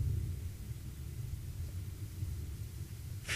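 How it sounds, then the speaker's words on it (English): Thunder rumbling outside during a storm, a deep, steady low rumble that rolls on at a constant level, muffled and distant-sounding, with no voices over it. "Freaking thunder and lightning outside."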